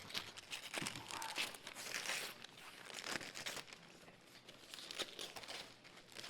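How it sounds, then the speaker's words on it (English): A wrapped gift package is torn open close by, with continuous crinkling and crumpling of paper and sharper ripping bursts that come and go irregularly at a modest level. "You want me to tear it open?"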